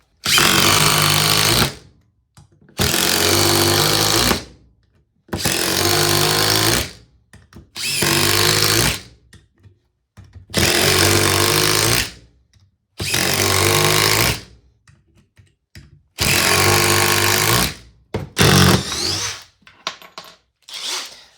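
Makita and Alloy Power impact drivers run in seven loud, rapid hammering bursts of about two seconds each, separated by brief silent pauses, with no talk.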